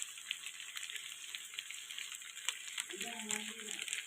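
Cumin seeds hit hot oil in a pan where fish is frying, a faint steady sizzle with brief crackles, and a voice speaking briefly near the end.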